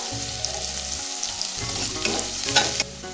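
Onions and green chillies fry in a pan, a steady loud sizzle with stirring scrapes and a few sharper crackles near the end, no voices.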